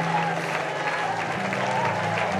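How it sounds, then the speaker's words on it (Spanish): A church congregation claps during worship, a steady wash of applause blending with sustained music and faint voices. "Aplaude, glorifica"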